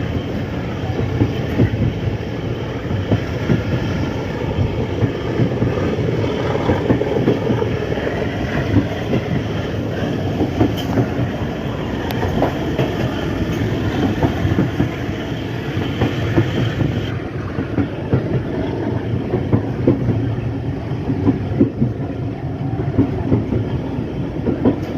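A passenger train in Pakistan rolls steadily along the rails, with a continuous loud rumble and rhythmic clickety-clack of wheels on track joints, heard close and without speech.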